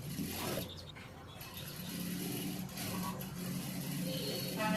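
Sewing machine stitching a blouse with a continuous mechanical whirring and rattling drone, close and steady, briefly easing before running on.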